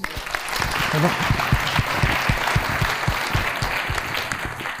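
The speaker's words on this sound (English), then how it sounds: "A round of applause." Audience applause at a conference closing session, a full round of clapping that swells early and stays strong, with some murmuring voices mixed in before it gradually eases.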